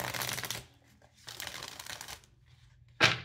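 Cards being shuffled in a few quick riffles, soft and close, with quiet pauses between and a sharper snap at the end.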